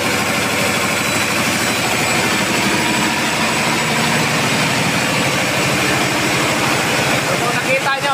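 A small generator engine runs near a harbor, a loud, constant close-up drone with a steady low throbbing idle and no change in pace over the whole stretch.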